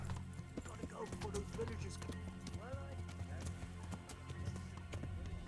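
A horse gallops in Kingdom Come: Deliverance, its hooves making a rapid, continuous clip-clop rhythm with a brief whinny partway through, over steady game ambience with someone talking.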